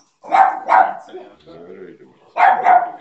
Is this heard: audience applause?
no